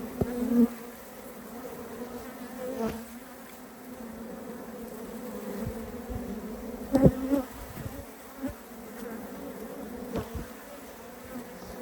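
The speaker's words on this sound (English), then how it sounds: "you notice all of them up here, they're fanning. See those little wings on how they're starting to fan?" Honeybees fan their wings at a hive entrance, a steady close-up buzzing hum with louder swells and passing individual bees, no voices over it.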